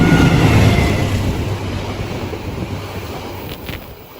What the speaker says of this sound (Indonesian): kereta Malabar dari Malang ke Bandung juga ikutan melewati kita